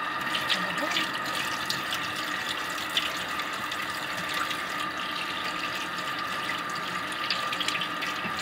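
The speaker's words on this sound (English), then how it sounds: "Gonna wash up." Water runs steadily from a kitchen sink tap while dishes are washed up, a continuous close hiss and splash with faint clinks, no talking.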